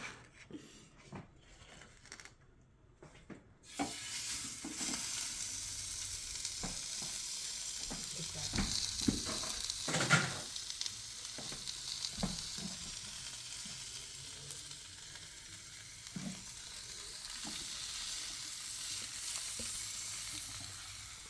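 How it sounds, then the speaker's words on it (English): Food sizzles and crackles in a heated Ninja Grill, a steady frying hiss that swells in after a quiet start, dotted with sharp pops and clattering stirs and no talk. "I love that sound. Sizzle."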